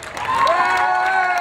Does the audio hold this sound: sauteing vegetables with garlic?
no